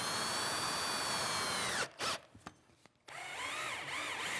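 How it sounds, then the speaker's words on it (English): A power drill drives screws into wooden mitered tray corners with a steady, loud whine that cuts out briefly for a few knocks and handling sounds, then starts up again. "I'll locate them, brad them, and then secure them permanently with screws."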